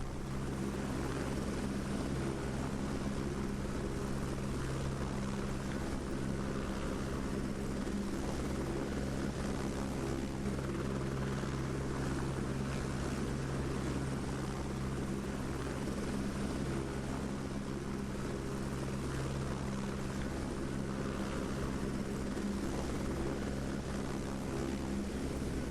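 A helicopter in the video game Only Up! drones steadily with a constant rotor and engine roar that holds at even loudness throughout, with no talking over it.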